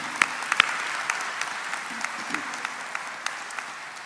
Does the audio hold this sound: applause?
yes